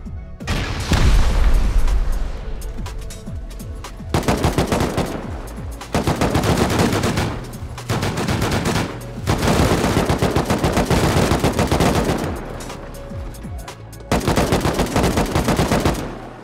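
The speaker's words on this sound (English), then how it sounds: "Turret killed me, dude." An auto turret in the video game Rust fires long, loud rapid-fire bursts separated by brief pauses, close and harsh, repeating over several seconds.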